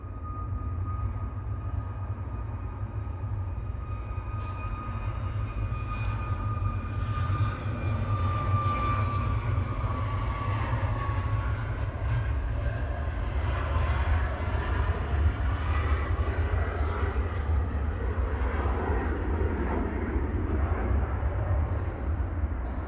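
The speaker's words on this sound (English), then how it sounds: "Right now on the roll to Malta, flight 5209. It's a MAX 8 EIIGG." Boeing 737 MAX 8 on its take-off roll for Malta at Manchester Airport, a loud sustained jet roar with a deep rumble and whining tones that build and swell steadily over the full stretch, close and continuous.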